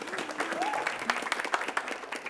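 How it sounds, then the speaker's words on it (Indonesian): Brief applause from a studio audience for team A of SMA Negeri 1 Talang Kelapa on the TVRI Sumsel quiz show Cepat Tepat, scattered claps mixed with a host's voice. "tepuk tangan untuk regu A"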